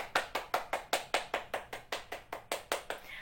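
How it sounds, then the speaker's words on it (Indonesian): A classroom group claps in unison for a small-group presentation, about sixteen evenly spaced, rhythmic claps, moderately quiet and with no talking over them. "kita berikan tepuk tangan untuk kelompok 2."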